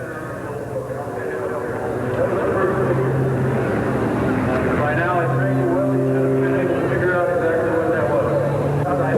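CAP 231 EX aerobatic airplane flown by Dominique Rollon through snap rolls at the Oshkosh airshow, its engine a steady loud drone with shifting pitch throughout, under continuous commentary talk.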